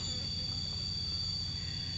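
A steady, close insect buzz hums without a break, with a high whine sitting over a low drone, like bees massed inside a box.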